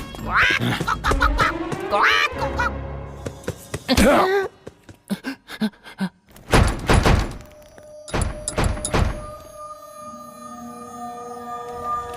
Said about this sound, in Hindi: सरदार, वो पंछी।